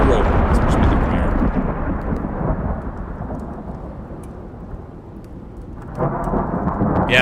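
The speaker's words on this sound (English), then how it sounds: "Yeah, it's a really loud storm." A loud thunderstorm in the survival game Icarus rolls with heavy rumbling thunder and rain, the roar easing gradually before another crack of thunder bursts in near the end.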